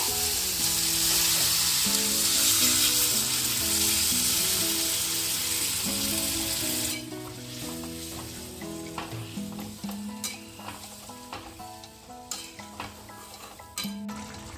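Potato and banana flower frying in oil, loud dense sizzling at first, then easing into quieter crackle with repeated spoon clinks and scrapes against the pan, soft music underneath.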